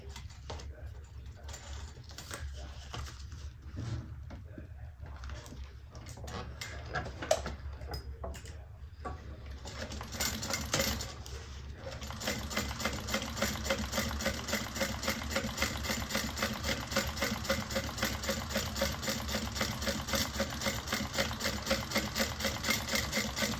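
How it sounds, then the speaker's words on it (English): A sewing machine top-stitches a seam onto the top band of a garment, a steady close rhythmic whir of needle strokes running continuously through the second half after some handling noise and shuffling. "top stitch onto the top band"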